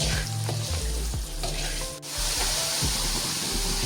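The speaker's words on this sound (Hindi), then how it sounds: "अब इसको अच्छे से भूनना है आपने, अच्छे से इसकी भुनाई करनी है।" Spice mixture with red chilli and sugar frying in a pan for chicken jalfrezi, a dense continuous sizzle close up, with a brief stir dipping the sound near the middle.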